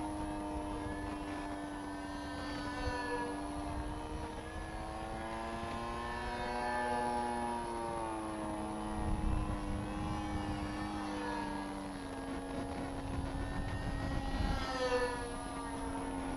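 Hobbyzone Firebird Deltaray RC trainer plane flying slowly at low throttle, its steady electric motor drone wavering gently in pitch, faint and distant throughout.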